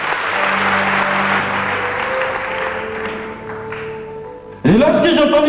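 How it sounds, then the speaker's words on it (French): A church congregation breaks into loud, sudden applause and cheering for the Lord after sustained keyboard tones, the clapping dense and close at the end. "On peut acclamer le Seigneur, s'il vous plaît."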